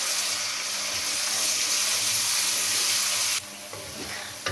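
Onion with garlic-ginger paste fries in a pan, a loud dense sizzle that holds steady and then drops abruptly to a quieter crackle near the end, with no talk.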